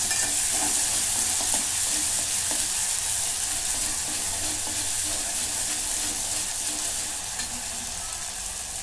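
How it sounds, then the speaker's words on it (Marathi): Onion with ginger-garlic paste fries in a pan for chicken biryani, giving a steady, dense sizzle with faint stirring scrapes that holds throughout and eases off slightly toward the end. "याच्यात आलं लसूणची पेस्ट टाकून घेते 1 चमचा. आता हे पण परतून घेते."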